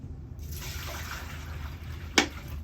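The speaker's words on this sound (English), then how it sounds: "we got our water. I'm gonna go ahead and dump in the sink." Water from a basin is poured into a sink in one short, soft, splashing rush, followed by a brief trickle and a small clatter near the end.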